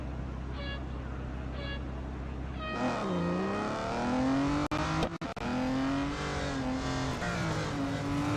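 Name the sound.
car accelerating in Real Racing 3 video game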